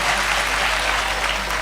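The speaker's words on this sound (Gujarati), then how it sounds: "તાળીયું પાડો આમ સાહેબ." Brief, dense clapping from a live audience at a Gujarati stand-up comedy show by Mayabhai Ahir, an even wash of hands throughout.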